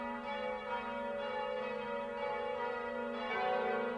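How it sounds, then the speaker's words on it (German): Church bells ring from a bell tower in an animated film of The Hunchback of Notre Dame, sustained overlapping tones swelling and repeating at a moderate level with no voices. "Quasimodo freute sich so sehr, Esmeralda zu sehen, dass er alle Glocken in Bewegung setzte."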